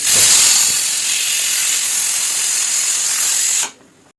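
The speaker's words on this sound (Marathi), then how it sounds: "आपल्या कुकरच्या तीन शिट्ट्या झालेल्या आहेत" A pressure cooker lets off a loud, steady hiss of escaping steam at its whistle, which holds for several seconds and then cuts off abruptly, leaving near silence.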